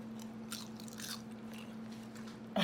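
Teeth bite into crispy oven-roasted chicken thigh with fully rendered fat, giving a few close, sharp crunches and some chewing over a steady low background hum, with no talking.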